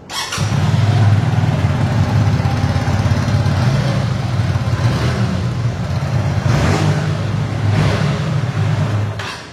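A Hyosung motorcycle engine idles loud and close with a steady low throb, then is revved in several rising bursts before settling back, with no talk over it.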